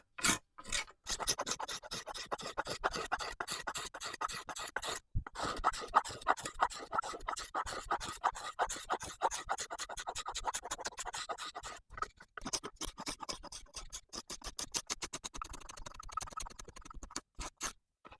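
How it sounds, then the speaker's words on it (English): Steady, rapid rasping strokes of a blade scraping down the wood of a hand-carved bow stave, close and continuous with brief pauses, no talking. "Should just take a couple minutes to scrape down past all this."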